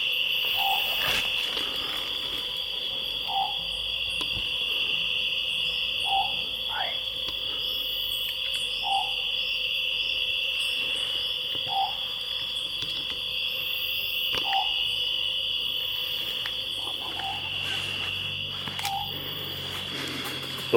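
A long-whiskered owlet from northern Peru calls at night, giving short single notes repeated about every two and a half seconds. A constant high cricket drone fills the background.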